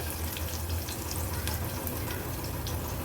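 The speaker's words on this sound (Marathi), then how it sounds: "फोडणी थोडीशी अशी परतून घ्यायची आपल्याला तुपावर." A tempering of dried red chillies sautés in ghee in a pan, giving a steady, soft sizzling hiss close by for a few seconds, with no speech.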